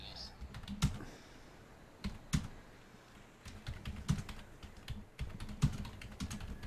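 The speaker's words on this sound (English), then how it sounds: "What are you typing anyway?" Fingers tap on a computer keyboard in uneven bursts of soft clicks, close and quiet, while people talk faintly in the background.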